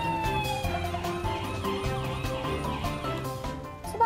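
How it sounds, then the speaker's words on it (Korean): A toy fire truck siren sounds during a play scene of a fire in a toy village. The wail is loud and continuous, with repeating tones throughout. "타요 마을에 불이 나자 소방차가 출동했어요."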